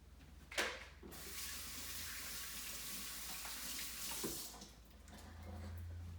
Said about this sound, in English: I'm gonna wash my hands off again